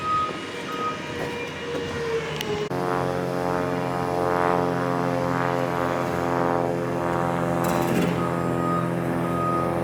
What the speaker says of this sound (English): We have a plane circling the speedway.